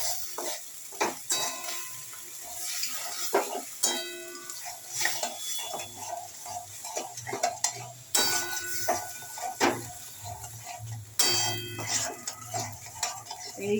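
Papaya curry with soaked chickpeas is sautéed in a pan, with repeated scraping and clattering strokes of a spatula over a low sizzle, close and fairly loud, with no talking.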